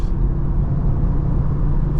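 A 2024 Volkswagen Jetta Sport engine, manual gear control through the stick, gives a steady low rumble from inside the cabin while downshifting from fourth to third, a continuous close drone with no talking.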